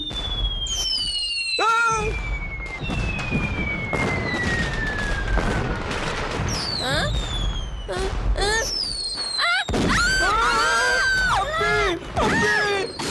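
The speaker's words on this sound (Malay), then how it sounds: "jangan main mercun. Bahaya." Cartoon firecrackers popping and exploding in a noisy, busy soundtrack, with bursts, whistling sweeps and shouting voices layered throughout.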